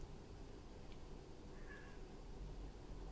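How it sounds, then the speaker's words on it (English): Cats meow faintly a couple of times, brief thin calls over a steady low background hum, heard in the early morning. "Fucking cats."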